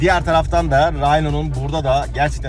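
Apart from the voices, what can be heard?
None of the usual background noises is heard.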